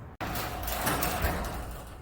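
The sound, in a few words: garage door closing with the opener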